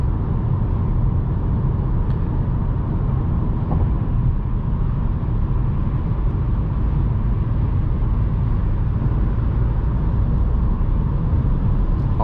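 A 2020 Volkswagen Golf 8 pulling hard on a motorway at night in traffic, heard from inside the cabin as a steady low engine and road drone with wind noise, even and unbroken throughout.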